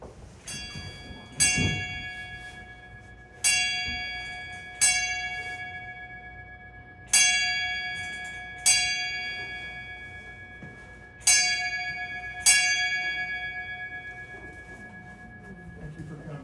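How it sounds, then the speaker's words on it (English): Eight ship's-style bell strikes at a memorial gathering, rung in four spaced pairs, each bright metallic clang ringing out and decaying slowly with a clear sustained tone, quiet room in between. "Eight bells."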